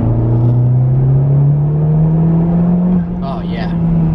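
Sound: 2017 Honda Civic Type R turbo engine accelerating

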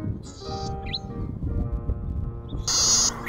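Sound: golden-headed cisticola male call, buzz then cheep

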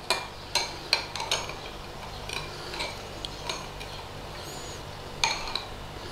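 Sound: stirring milk with lemon juice

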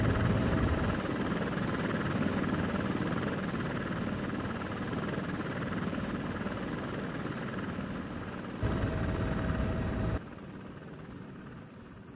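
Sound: Comanche helicopter taking off in Comanche 3 Gold video game

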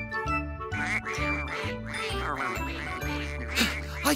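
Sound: ducks quacking

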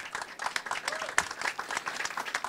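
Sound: applause

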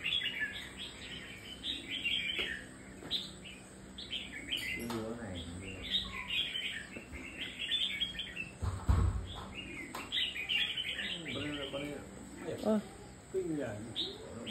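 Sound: caged songbird singing

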